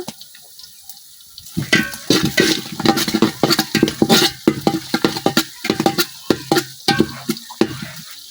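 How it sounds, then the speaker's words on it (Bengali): Chopped onion frying in a pan as whole garam masala spices are added, giving a busy run of close stirring scrapes and sizzling bursts that start after a quiet opening, with no talk. "পেঁয়াজটা কিছুক্ষণ ভাজিয়ে নিলাম। এখন দিয়ে নিতেছি কিছু আস্ত গরম মশলা।"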